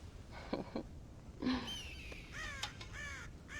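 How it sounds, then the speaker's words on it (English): Crows in the Red Dead Redemption video game caw several times, harsh repeated calls in short bursts over a steady ambient background, some near and loud, others overlapping. "God damn crows!"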